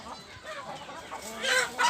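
Free-range village chickens on a small home farm give a short run of nearby clucks and calls, rising louder toward the end, with no one speaking.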